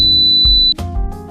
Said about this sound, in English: A long beep indicates a success.